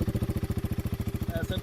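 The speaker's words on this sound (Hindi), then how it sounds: "एग्जॉस्ट साउंड आपको ज़रूर सुनाता हूँ मैं इस बाइक का।" A Royal Enfield Himalayan 450 single-cylinder motorcycle exhaust idles close by with a loud, deep, steady thumping beat, each firing pulse distinct and evenly spaced.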